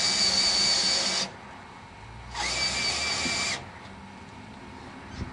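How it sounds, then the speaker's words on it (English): An electric drill cranks a Miller lumber mill in two steady whirring runs of about a second each, separated by a short pause, close and fairly loud. "You can use a cordless drill or a regular electric drill."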